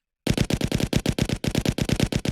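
A rifle without a suppressor fires in an Unreal Engine 5 shooter: a rapid automatic burst of about a dozen loud, evenly spaced, punchy shots, close and with no voices.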